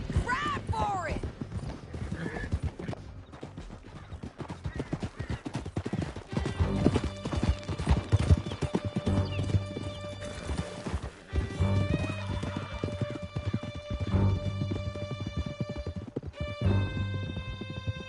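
Horses gallop hard in Red Dead Redemption 2, a rapid, close clip-clop of hooves with a few whinnies, running continuously beneath shouted dialogue and game music.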